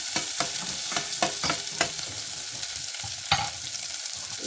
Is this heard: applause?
no